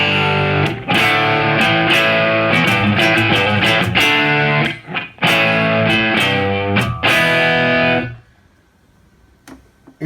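Distorted electric guitar from a Line 6 POD HD500X, recorded through a 4-to-1 dynamic mic on a cab: loud, dense chugging chords in rhythmic bursts with brief gaps, then a sudden stop leaving a faint ringing tail.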